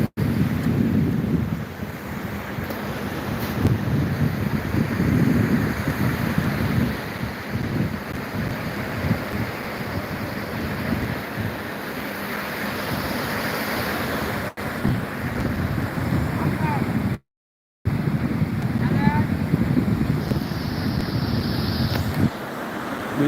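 Winter surf breaks steadily on the beach at Gamasa, with continuous rushing waves and gusting wind buffeting the microphone; the sound stays dense and even throughout, with no voices.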